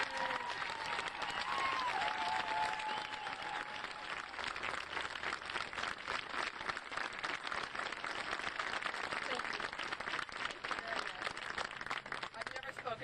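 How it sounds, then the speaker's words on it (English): Sustained applause from a large crowd for Sharon Nelson, dense steady clapping throughout. "Ladies and gentlemen, we owe this woman a huge round of applause."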